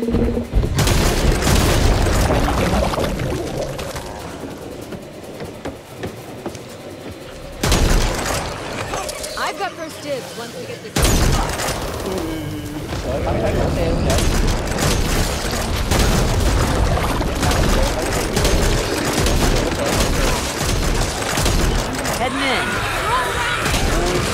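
Gunfire from the Back 4 Blood co-op zombie shooter, with heavy booming shots and crashing impacts in dense bursts throughout, loud and continuous, with game noise and brief pauses between volleys.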